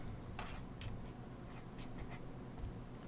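Zebra Click Art marker pen scratching across paper in short strokes, quiet and close against a low steady background hum, with a few brief sharper scritches.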